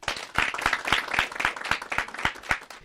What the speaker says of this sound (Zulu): Bese thina sishayela abafundi basenondenisa imibuzo yenu mihle kakhulu elikhulu ihlombe